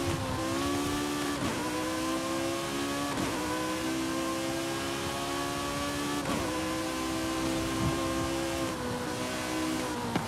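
An Ariel Atom's engine drones in Forza Horizon 5, winding up steadily and dipping briefly at each of several gear shifts, loud and continuous throughout.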